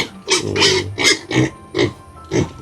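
Pigs, likely piglets, in a pen, giving five or six loud close grunting oinks in an uneven run, each short and throaty with no talk.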